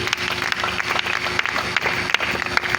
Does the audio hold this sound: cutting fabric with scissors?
no